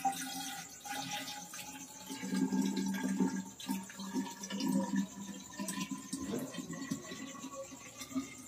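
Hot water is poured into a container in a home kitchen, a soft, uneven liquid splash and trickle with a rising fill tone, faint and close, with no talking.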